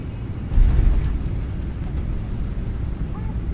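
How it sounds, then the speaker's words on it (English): Main gear of a PMDG 777-300ER touches down in Microsoft Flight Simulator 2024, giving a deep thud that rolls into a steady, heavy low rumble as the wheels run along the runway. "That's exactly how that sounds when those mains touch down."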